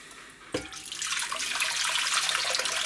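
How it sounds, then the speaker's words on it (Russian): A short knock, then water starts pouring from a kettle and keeps flowing in a steady splashing stream into a dish. "Налил воды."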